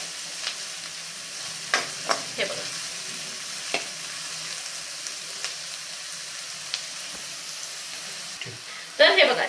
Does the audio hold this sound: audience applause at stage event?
no